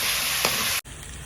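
Chopped fenugreek leaves frying for methi chicken, a steady close sizzle with a soft stir partway through, then a brief cut and the sizzle resumes slightly quieter.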